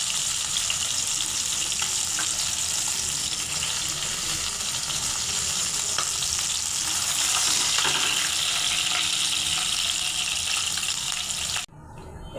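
Fish sizzles in hot oil in a Bengali home kitchen, a dense, continuous crackling hiss that holds steady and loud for about twelve seconds before cutting off abruptly.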